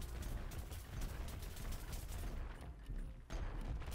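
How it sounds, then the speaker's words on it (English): Zombie troops fire on the player in the shooter Plants vs. Zombies Garden Warfare 2, a continuous wash of rapid distant gunfire and blasts blending into a loud, busy battlefield din. "if there's not so many zombies shooting me"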